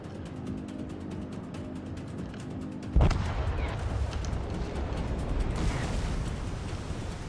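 Bombs explode in a naval combat video game replay: a sudden loud blast cuts in midway over a steady low engine-like rumble, followed by a sustained roaring, crackling wash of explosion noise.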